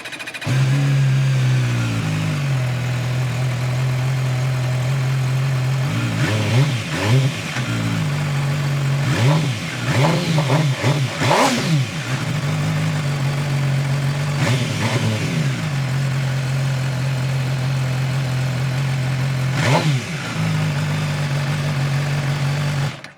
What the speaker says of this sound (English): take a listen to how the MV Agusta Brutale 1000 RS sounds